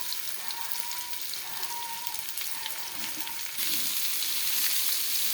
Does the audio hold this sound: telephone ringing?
no